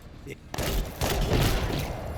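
Gunfire rattles in the MENACE video game campaign: a short quiet stretch, then a dense, sustained fusillade of rapid shots and blasts.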